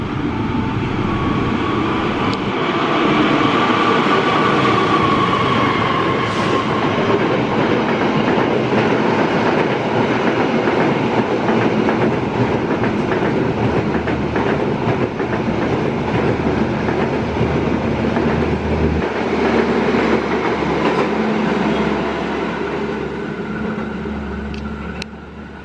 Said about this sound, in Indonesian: akan melintas kereta api Argo Dwi Pangga 16